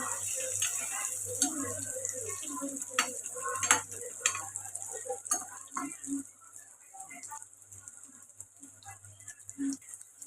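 Paneer frying in oil in a pan: a steady soft sizzle with intermittent scraping and stirring clatter of a utensil against the pan, heard close up.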